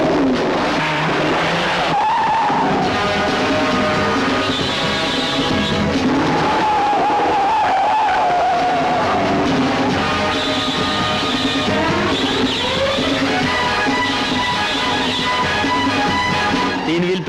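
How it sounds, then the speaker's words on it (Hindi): A car skids while driven up on three wheels in a stunt, tires squealing in long loud sweeps with engine noise throughout, repeated several times. "तीन व्हील पे गाड़ी चला लेती हैं आप?"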